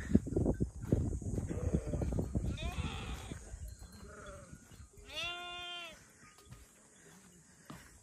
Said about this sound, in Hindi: काफी तादाद में भेड़ें भी हैं, वो भी आपको दिखाते हैं।